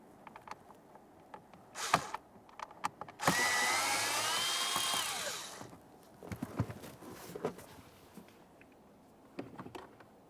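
A power tool spins out the mounting bolts of the blower motor on a 2014-2018 Mazda 3. One loud whirring run of about two seconds, rising in pitch, is set among quieter clicks and handling clatter.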